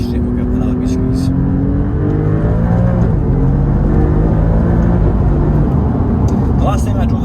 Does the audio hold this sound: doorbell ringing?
no